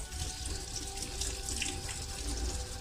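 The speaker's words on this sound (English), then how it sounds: "So you rinse out the brush properly." Tap water runs over a makeup brush being rinsed at a sink, a steady, close splashing stream with slight shifts as the brush moves under the flow, and no talking.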